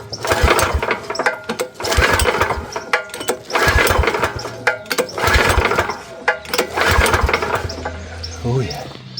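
A Briggs & Stratton 420 engine on a Wheel Horse B115 tractor is cranked in repeated bursts, each a rapid mechanical churning that stops and restarts several times without catching, with a voice heard between attempts.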